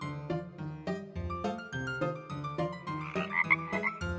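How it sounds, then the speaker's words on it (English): A toy frog gives a rhythmic series of about eight evenly spaced, close, clear croaks, alone with no talking. "A frog."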